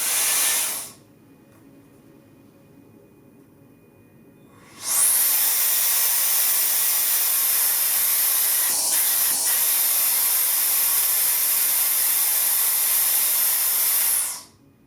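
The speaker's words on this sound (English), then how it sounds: "The tool will automatically engage in cleaning mode for about 10 seconds and then turn off." A T3 Aire 360 hair dryer in cleaning mode gives a short burst of loud airy hiss, stops for several seconds, then blows a steady, strong rushing hiss for about ten seconds before cutting off.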